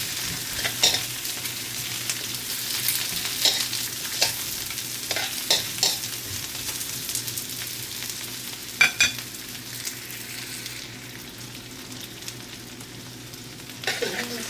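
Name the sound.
stirring fish curry with onions in a pan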